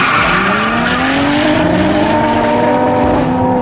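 A lowered drift car with a JZ engine, body kit and external roll cage roars loudly and close, its engine note climbing steadily with rising harmonics, with a hint of tire squeal and no voices.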